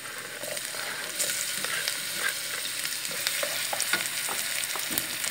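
Onion and tomato frying in a pan, a steady crackling sizzle with scattered pops and the occasional scrape of a stirring spoon, close and fairly loud throughout, no voices.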